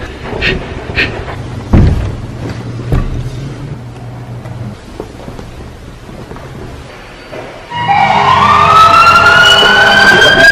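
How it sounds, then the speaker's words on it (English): An ambulance siren wails, rising in pitch near the end, loud and close, following a stretch of rumbling noise and scattered thumps. "you play an ambulance noise"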